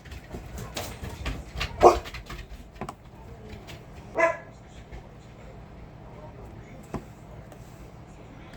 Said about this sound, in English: I'm so sorry for my dogs barking in the background.